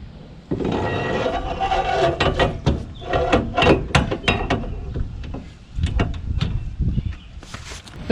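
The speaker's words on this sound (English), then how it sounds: "then we'll slide this axle in" Axle sliding into the rear axle housing of a junkyard-sourced axle with C-clip eliminators, a run of close metallic scrapes, clicks and clunks that come in irregular bursts with short pauses.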